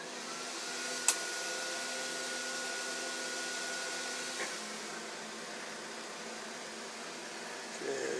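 Blower and cooling fan on a Sovol SV08 3D printer run at half power, a steady airy whir with a faint constant tone, close by, with a brief click early and a soft knock midway.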